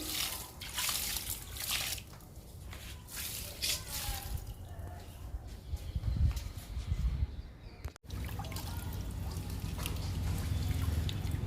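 Liquid fertilizer pours and trickles onto potted indoor plants, with steady dribbling and faint drips running through most of the stretch, a brief break near the end, and soft background noise throughout.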